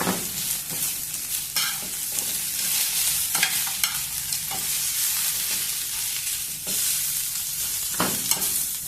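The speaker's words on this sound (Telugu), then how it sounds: "కొద్దిసేపు వేయించుకున్నాము" Raw banana pieces fry with sesame seeds in a pan, a loud continuous sizzle broken by frequent clattering stirs of a spatula; no one speaks.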